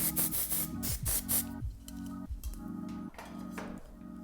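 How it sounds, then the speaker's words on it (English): AIIR texture spray is misted onto a rope-braided bun in a hair-styling routine, giving a few quick, soft spritzes near the start, heard close over steady background music. "spray it on the rope braid."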